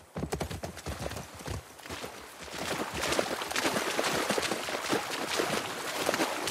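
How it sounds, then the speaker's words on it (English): Horse hooves clip-clop in The Last of Us Part II, a close run of brisk, uneven hoofbeats that soften into a steadier patter under a low ambient bed. "You're gonna have to leave the horses here."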